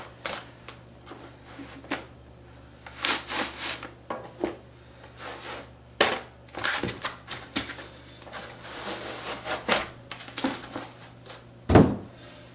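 A 24-inch infrared touch frame is unpacked from its wrapped styrofoam packaging, with close rubbing, squeaking and scraping, soft knocks and rustles, and a sharp thump near the end.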